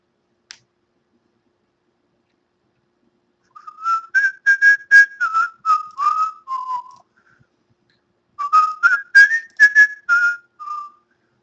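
A person whistles a wavering tune in two short bursts separated by a pause, close and clear, after a single sharp click at the start.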